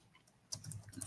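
Soft, quiet keystrokes on a computer keyboard while typing code, a brief burst of faint clicks beginning after a short near-silent moment.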